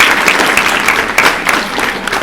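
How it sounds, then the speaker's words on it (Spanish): An audience at an interview event for Iago applauds, a short, loud burst of many hands clapping at close range. "Entonces le damos un aplauso a Yago."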